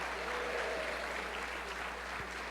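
Steady applause from a congregation at a church worship service, a continuous dense clapping that holds at an even, moderate level throughout.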